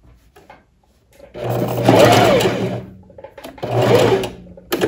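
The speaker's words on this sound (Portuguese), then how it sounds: "Farei a partir de agora a costura de fechamento das laterais da blusa e também das mangas" A sewing machine stitches the side seams and sleeves of a long puffed-sleeve blouse with cuffs, running in two loud bursts of steady whirring separated by a short pause.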